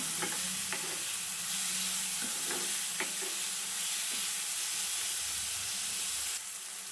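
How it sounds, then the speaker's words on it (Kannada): Medium-sized tomatoes and onions fry in a pan with a steady, close sizzle and hiss throughout, broken by a few sharp clicks and taps of a stirring spoon against the pan. "ಟೊಮೊಟೊ ಫ್ರೈ ಆಗ್ತಾ ಇರಲಿ."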